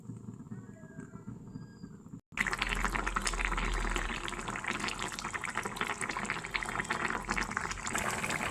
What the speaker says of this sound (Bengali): এটা 10 মিনিট ফুটতে দেব